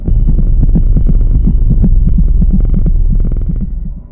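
A low, steady throbbing pulse repeats in a regular rhythm, loud and close, like a heartbeat with a faint high hum above it.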